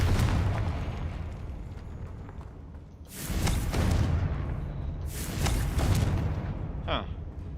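Confringo fire spell in Hogwarts Legacy going off twice as heavy booming blasts with broad rumble, each swelling and fading over a low continuous background, followed by a short bright magical chime.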